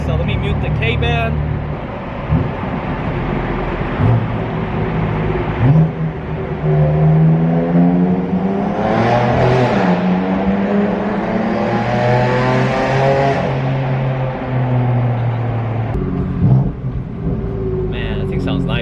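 A BMW F82 M4 with the S55 engine pulls hard through a city tunnel, its exhaust roaring and rising in pitch through the gears with brief shift dips, loud and echoing, with no speech over it.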